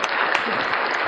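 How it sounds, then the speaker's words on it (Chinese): Studio audience applause during a live-streamed cast promotion for a Chinese TV drama, a steady dense burst of clapping filling the whole moment without a break. "哎，掌声！"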